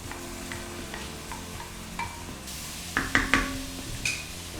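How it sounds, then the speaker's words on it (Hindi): Onion, ginger and garlic frying in a pot for a vegetable handi, a low steady sizzle under a few metallic scrapes and clanks of a spoon stirring, clustered toward the end. "ताकि प्याज भी और ब्राउन हो जाए, अदरक लहसुन भी भून जाए"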